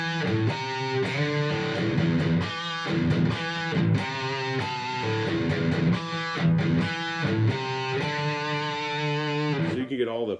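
Electric guitar with hot pickups, played on the bridge pickup through high-gain distortion, an Ibanez RG652 AHM NGB, firing off loud, sustained chugging chords and riffs without pause, with no talk over it.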